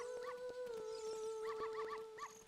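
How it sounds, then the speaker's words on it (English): A dog in the N64 game Ocarina of Time gives a series of short, bright yips and whimpers in quick bursts, set over a steady tonal game music drone. "And a dog is following us."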